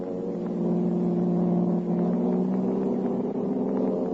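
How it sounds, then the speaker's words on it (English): Car chasing another car in an old radio drama sound effect, a continuous loud engine drone with steady rumble and slight pitch rise, muffled and lo-fi throughout. "Jumping into his own car, the Blue Beetle gave chase until out on the river road."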